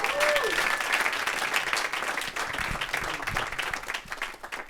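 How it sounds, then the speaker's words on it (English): Audience applause at a senior music recital, a steady burst of clapping that fades over a few seconds, with a voice briefly heard at the start. "One more round of applause for Rich DeRosa, the GOAT."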